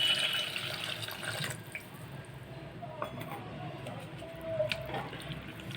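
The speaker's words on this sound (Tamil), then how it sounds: "தண்ணியை வேஸ்ட் பண்ணாமல் நம்ம இதில் சேர்த்துக்கலாம்." Tomato-seed water, filtered, pours and trickles into a cooking pot in a home kitchen, a soft steady liquid splash with a few faint drips and light clinks.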